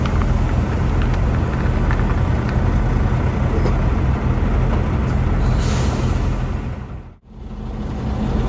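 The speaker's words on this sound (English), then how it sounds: "so I'll drop the airbags" Air suspension airbags on a truck being dropped under a low trailer, a loud, steady rushing hiss of released air over engine rumble that cuts off sharply near the end before the noise resumes.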